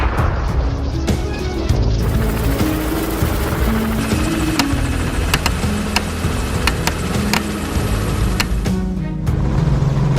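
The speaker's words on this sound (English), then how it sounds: "the helicopter roared back to life" A helicopter roars steadily and loudly nearby, rotor thrum constant, with sharp gunshot bangs and cracks scattered over it during a wild boar hunt.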